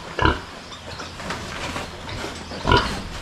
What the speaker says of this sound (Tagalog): Gutom na rin yung isa nating baboy.